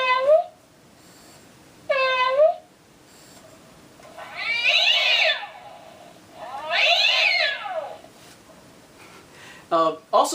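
A Halloween toy cat gives two electronic meows, then plays two longer sung melodic phrases with a synthetic voice, loud and close, with a short burst of sound at the end.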